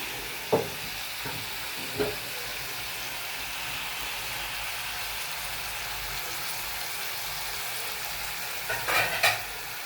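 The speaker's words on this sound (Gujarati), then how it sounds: "અને ધીમા તાપે આપણે ચડવા દઈશું, કેમ કે થોડું ફ્રાય થાય તો ખાવામાં" Food fries in a pan over a low flame with a steady soft sizzle, broken by a few clinks of utensils near the start and end.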